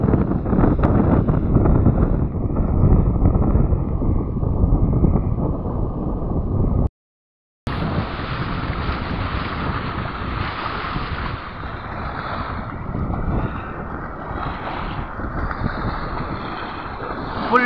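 Strong wind buffets the microphone beside a full dam reservoir as big waves churn and slap, a loud continuous roar broken by a brief dropout midway.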